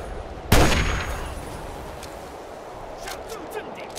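A single sharp burst of enemy gunfire from the Fallout 3 game cracks out loud and close, then decays into a quieter rumbling background with faint clatter.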